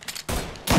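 A brief burst of rapid gunfire in the video game Mafia 3, loud and sharp, in two quick bursts separated by a short gap.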